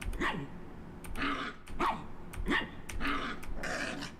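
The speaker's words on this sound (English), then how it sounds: "you have a dedicated bark button" A fox character in a video game barks repeatedly, five or six short sharp yips at a fairly steady rhythm, heard alone with no talking.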